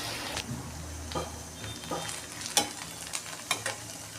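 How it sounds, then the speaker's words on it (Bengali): Okra frying in a pan as mustard paste goes in, a steady low sizzle with scattered scraping stirs and a few sharper clicks of a spatula against the pan. "এরপর আমি সর্ষে বাটাটা অ্যাড করে দেবো।"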